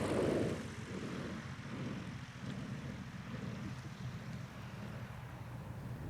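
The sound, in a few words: bush plane arriving with raft and gear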